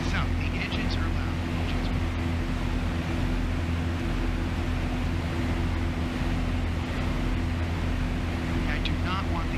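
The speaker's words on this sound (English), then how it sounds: "The engines are loud." Boeing 737-800 engines in the ZIBO flight simulator, played on a home-built flight deck, give a loud, steady roar with a low hum that runs unbroken throughout.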